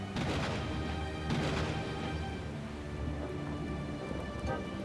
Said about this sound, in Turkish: Yağmur çok şiddetli yağıyor. Gök gürültüleri her yana aydınlatıyor.